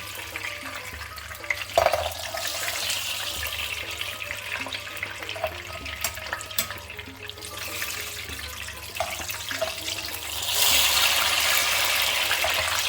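Peppers frying in oil in a home kitchen pan: a continuous close sizzle and crackle with a few clinks of utensils, then the hiss grows louder and denser near the end.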